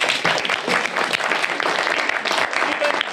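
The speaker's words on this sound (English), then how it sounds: "Big round of applause for Stephen." A live audience breaks into a big round of applause for a participant, a loud, continuous clatter of many hands clapping at close range, with some voices faintly under it.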